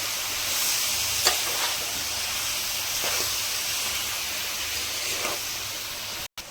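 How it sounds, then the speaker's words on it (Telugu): Cucumber and chicken fry in oil while being stirred, producing a steady dense sizzle and hiss with occasional scrapes, cut by a brief dropout near the end. "నూనెలో అనేది దోసకాయ ఎప్పుడైతే మగ్గుతుందో తొందరగా అనేది ఉడికిపోతుంది మనకి."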